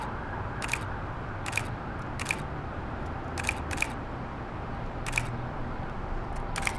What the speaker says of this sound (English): you'll hear the shutter actually snap a bunch off.